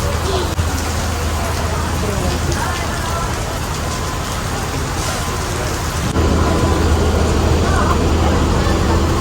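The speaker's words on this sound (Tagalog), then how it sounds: "Kasi sobrang lakas ng ulan." Heavy rain pours down in Taiwan, a loud, dense, continuous hiss and patter that swells slightly louder toward the end, with people talking faintly underneath.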